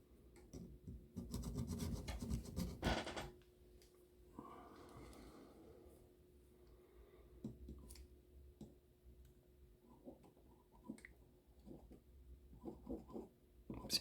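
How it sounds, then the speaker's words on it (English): Oxide being scraped off a small metal contact on a model locomotive circuit before soldering, a close, quiet scratchy rasping at first, then scattered light ticks and taps from small tools. "Just want to scrape off the oxide a little bit to give the solder something good to stick to."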